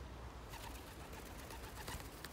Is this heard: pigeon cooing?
yes